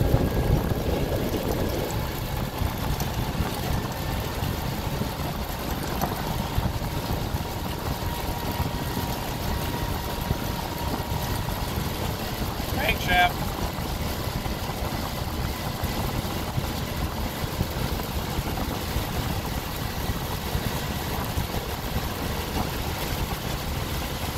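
A steady, low engine rumble with road and wind noise as a Land Rover Series II with a broken layshaft drive and no roof drives along, unchanging throughout with no talking.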